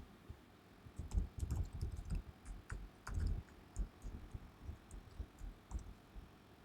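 Someone types on a computer keyboard while logging in, producing soft, close, irregular key taps and clicks in short bursts, with no talking.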